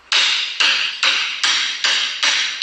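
Six sharp, bright hammer blows strike metal hoops onto a wooden wine barrel at a steady rhythm of about two per second, each ringing briefly before the next, close and clear with no talk.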